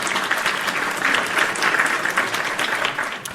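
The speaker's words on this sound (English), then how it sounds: "I need the hand claps, please, when you get a chance" A burst of many hand claps, a crowd-like applause sound effect with dense, irregular slaps rising and falling in loudness, close and fairly loud with no talk.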